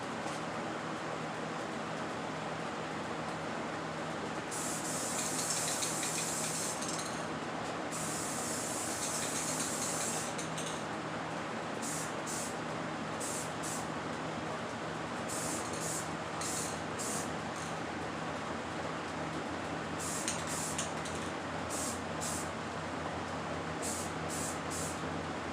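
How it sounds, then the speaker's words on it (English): Bursts of spray-gun hiss come and go as clear coat is laid onto a side cover for a 2003 Suzuki DR200SE motorcycle, steady background hum underneath, several longer passes then short repeated spurts. "let's go ahead and put on the final coat of the clear coat."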